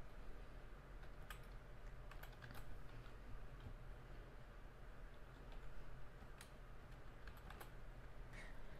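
Keys tapped on a computer keyboard while entering an HTML tag, faint scattered clicks in small irregular clusters over a steady background hiss.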